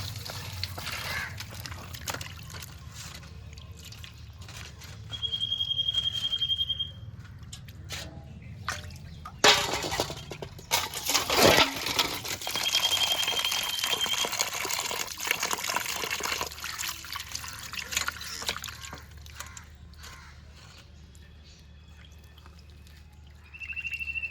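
Small chuno fish being rinsed by hand in water, with splashing, trickling and dripping throughout, a louder burst of sloshing midway, and faint background sounds.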